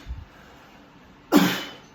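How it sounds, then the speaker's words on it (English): A single sharp cough combined with a forceful blow of breath, done as a breathing exercise, bursts out after near-silence and trails off over about half a second. "we basically cough and blow at the same time"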